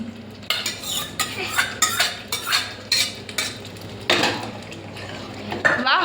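Mixed vegetables with pav bhaji masala being stirred in a pan for homemade pav bhaji, with a steady run of close, loud metal spoon scrapes and clatters against the pan.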